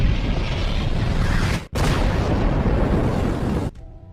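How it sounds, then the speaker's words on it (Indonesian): A bazooka rocket blast rendered as a film sound effect: a loud, roaring explosion that cuts out abruptly, resumes as a second sustained boom, then ends with a fading tail. "Hazar langsung mengambil basoka lalu menembakkan rudal ke arah si pilot"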